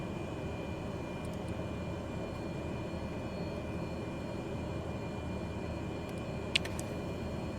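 A propeller airplane's engine drones steadily on a runway before an intersection takeoff, a constant broadband rumble heard from inside the cabin with a brief faint click near the end.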